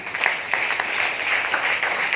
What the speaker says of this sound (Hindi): वेरी गुड, जोरदार ताली होना चाहिए।